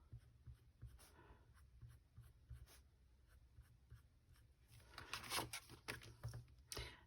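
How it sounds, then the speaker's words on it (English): A pencil taps and scratches quick short strokes on card, drawing dotted faux-stitch lines in a rapid, irregular rhythm that grows busier toward the end, close and quiet. "And again, just using my pencil."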